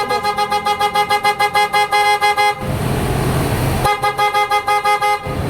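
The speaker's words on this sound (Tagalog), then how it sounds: "So pakinggan natin mga boss yung tunog ng auto style horn." A pair of PIAA Oto Style horns fitted to a Honda Fit blares in rapid repeated toots, then holds one long continuous blast before resuming short pulsing honks, loud and close.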